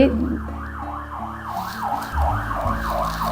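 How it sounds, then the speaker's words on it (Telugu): An ambulance siren wails in a steady rising-and-falling pattern, fairly close and loud, over low road traffic rumble. "ఈ రోడ్లో అంబులెన్స్ ఎక్కువ వస్తాయండి నా వీడియోస్లో కూడా మీకు ఆ సౌండ్స్ వినిపిస్తూ ఉంటాయి"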